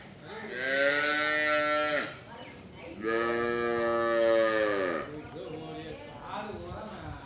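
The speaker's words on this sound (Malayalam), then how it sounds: "ഏകദേശം ഈ നിൽക്കുന്നൊക്കെ വിൽപ്പനയ്ക്കായിട്ടുള്ള പശുക്കളാണ്." Cows at a family-run dairy farm in Pollachi moo in two long, loud calls close by, followed by quieter lowing from the herd.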